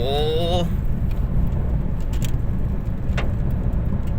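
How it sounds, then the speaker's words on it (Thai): A car drives along a dusty road while following another vehicle, with a steady, loud engine and road rumble throughout and occasional faint rattles on top. "ตอนนี้ขับรถตามสาวดุนครับ"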